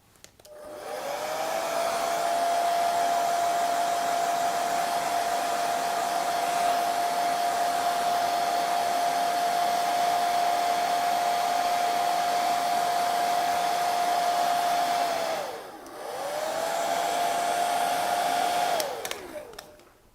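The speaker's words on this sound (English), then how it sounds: "If that hairdryer sounds way too loud," A hair dryer whirs steadily at close range with a constant high hum, cutting out briefly near the end before starting up again for a few seconds.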